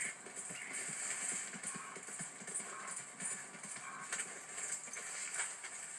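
A horse walks in the video game Red Dead Redemption 2, its hooves clip-clopping in an irregular steady rhythm at close range over a background hiss, with no talking.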